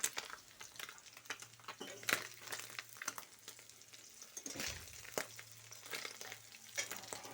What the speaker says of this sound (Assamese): এইফালে মই মাছ ভাজি আছোঁ